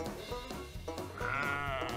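Sheep bleating in a video game, a close, wavering bleat rising over a busy backdrop of game music and clicking sounds for a couple of seconds.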